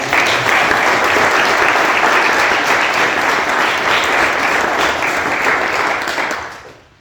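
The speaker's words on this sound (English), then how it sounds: "Can we give them a round of applause?" A crowd at a Pittsburgh Take Your Father to School Day proclamation event gives dense, steady applause at close range, holding strong before fading out near the end.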